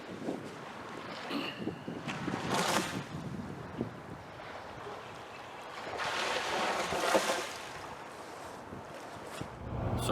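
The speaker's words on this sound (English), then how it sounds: "right now it's in the 30s with about 20-25 mile an hour winds" Strong 20-25 mph wind on a cold day near a lake, buffeting the microphone in rough, rumbling gusts that swell and fade.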